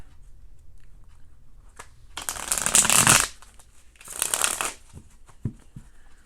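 Tarot cards shuffled by hand in two loud, close riffling bursts of papery flutter, followed by a few soft taps and knocks of the deck. No voices are heard.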